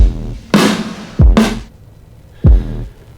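Three dry, punchy snare hits with no reverb tail, the first two close together and the third after a pause.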